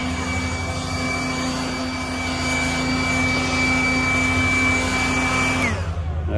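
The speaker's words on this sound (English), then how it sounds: "I'm gonna check my blower." A Ryobi 18V battery leaf blower runs with a loud, steady motor whine for about six seconds, then cuts off and winds down quickly, leaving near silence.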